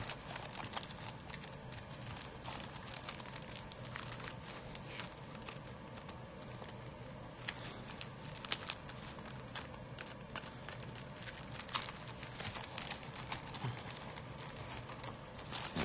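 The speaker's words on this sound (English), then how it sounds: "Shuffle that up." A deck of Chilling Reign trading cards being shuffled by hand, a steady dense riffle and patter of card edges running close and continuous throughout with no talking.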